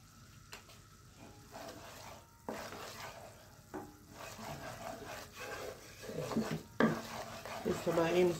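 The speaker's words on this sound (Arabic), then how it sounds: "اهو بقلب على طول" Béchamel sauce for baked macaroni is stirred continuously in a pot, a close series of soft scrapes and light sizzling with occasional clinks of the spoon against metal, growing busier toward the end.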